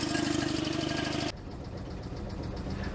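A small Invacar engine idling while it warms up gives a close, steady rhythmic putter with a throbbing low pulse. Partway through, the tone abruptly shifts to a duller, softer idle that keeps running, with no voices.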